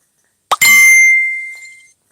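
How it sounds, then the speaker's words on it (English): A phone notification pings once, a bright bell-like chime that rings out and fades over about a second and a half, alone and close. "My phone never stops pinging."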